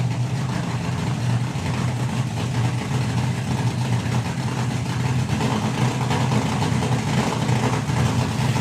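A loud, continuous engine drone with a deep steady rumble from a nitro drag racing car running nearby at a drag racing event, holding constant without pauses.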